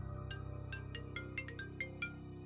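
A phone ringtone for an incoming call from an unknown number plays a short melody of bright, evenly spaced electronic chimes with a soft sustained backing tone underneath, clear and close with no voices.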